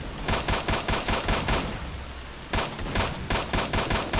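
Rapid automatic gunfire in S.T.A.L.K.E.R. Shadow of Chernobyl, loud and close, with a steady burst of evenly spaced shots, a brief pause of rumbling, then another sustained burst, with no talking over it.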